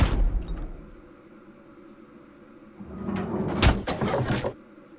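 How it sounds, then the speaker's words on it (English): In Zero Escape: Virtue's Last Reward, a heavy door slowly grinds open: a low mechanical rumble builds gradually, swells into a louder scraping, clanking burst and then cuts off. "A door at the end of the room slowly ground open."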